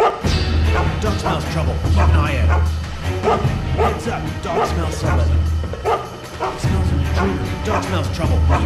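Dog barking in a video game, repeated sharp bow-wow barks and yips in quick bursts over a low droning soundtrack, with game voices speaking throughout.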